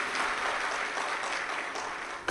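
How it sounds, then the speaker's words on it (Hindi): An audience at a live Shiv Mahapuran katha religious discourse claps in steady, dense applause that holds evenly before a sudden louder burst at the end. "एक बार जोरदार ताली बजाकर साथ ही कहा।"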